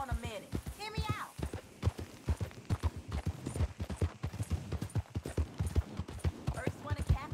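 A horse's hooves clip-clop in Red Dead Redemption 2 with a steady, even rhythm of moderate loudness throughout. Voices talk over the hoofbeats.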